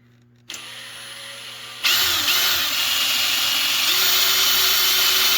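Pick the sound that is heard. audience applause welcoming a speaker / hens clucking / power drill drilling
power drill drilling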